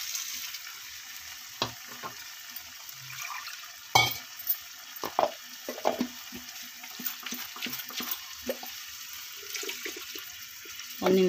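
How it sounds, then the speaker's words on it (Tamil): Water poured into a pan of simmering egg curry gravy, a soft sizzling, watery rush and bubbling with brief clinks and stirring knocks throughout, heard close and fairly quiet with no talking. "தண்ணி எந்த அளவு வேணுமோ அந்த அளவு சேர்த்துக்கோங்க."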